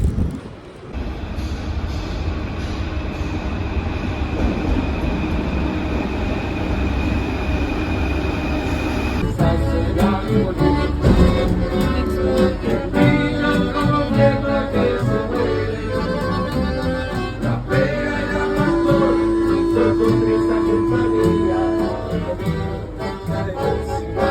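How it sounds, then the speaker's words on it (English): A Paris train rumbles steadily, with wheels clattering and a drawn-out metallic squeal on the rails, loud and close throughout. "Train."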